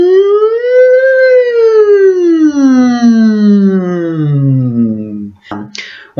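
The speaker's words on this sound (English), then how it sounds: "sort of just humming up and down as high and as low as you can go" A single sustained hum glides up a little, then slowly sinks low over several seconds, loud and close, ending with a small click.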